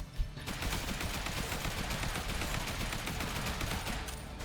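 Assault rifle fire in the video game Zombie Survivors, a continuous rapid stream of close shots held for several seconds without pause.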